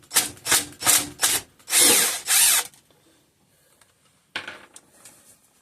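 Tools work bolts loose from a Kohler K241 engine head in a sequence of loud whirring bursts, followed by a quiet pause and a fainter scraping at the end.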